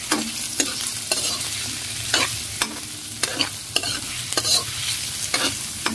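Ginger sizzles in a hot pan for squid adobo with coconut milk, under a low steady fry, while a utensil scrapes and stirs in repeated sharp strokes, close by and with no talk.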